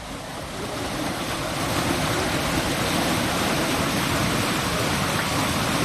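Kosi river floodwater in Saharsa, Bihar, rushes past a broken culvert in a dense, unbroken roar that holds loud and constant from start to finish, with no voices.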